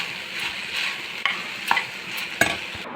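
Mashed avarakkai paruppu usili (broad beans with lentils) being mixed in a pan, giving soft scraping stirs with light sizzling and a few sharper spoon clacks, close and steady with no talk.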